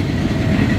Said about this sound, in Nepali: अब तपाईँहरूले ट्रेन हेर्नुहुन्छ